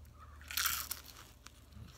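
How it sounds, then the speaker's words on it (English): A deep-fried cheeseburger egg roll gets bitten, giving one loud, sharp crunch followed by fainter crackling chews, close to the mic and with no talking over it. "That one was really crunchy."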